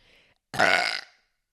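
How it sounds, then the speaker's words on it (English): A single mouth fart, a short loud buzzing blurt made with the lips after a faint breathy lead-in, close and alone. "There was the single mouth fart for this episode."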